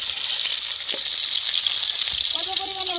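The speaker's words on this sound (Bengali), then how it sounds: "তেল গরম হচ্ছে। এখন আমি একটা একটা করে ডিম দিয়ে দিব।" Boiled eggs fry in hot mustard oil in a kadai for a village-style egg masala curry, giving a continuous close hiss and crackle of sizzling, with a brief voice rising near the end.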